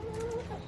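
Backyard chicken coop hens clucking softly and continuously at close range, a steady low murmur of fowl sounds with no speech.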